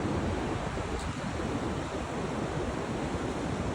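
Surf from the incoming tide at Downhill beach rolls in as a steady, broadband wash of waves, with a light wind rumble over it and no voices.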